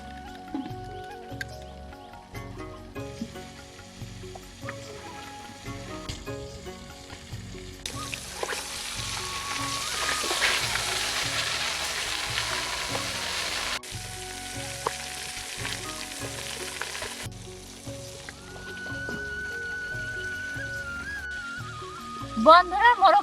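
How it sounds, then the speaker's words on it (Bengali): A whole chicken fries in a covered pan, loud continuous sizzling and crackling with stirring and lid or utensil clatter, and a voice speaks over parts of it. "ঢাকা দিয়ে মোরগটা সুন্দরভাবে ভেজে নেব।"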